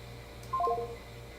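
Faint telephone tones play through a linked computer, a short quick cluster of dial-like beeps over a low steady hum, with no voices.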